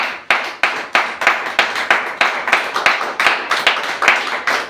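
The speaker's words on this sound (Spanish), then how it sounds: "Brindle un fuerte el aplauso al Señor." A church congregation claps in a steady, rhythmic beat, loud and close, a long run of sharp hand claps with no talking.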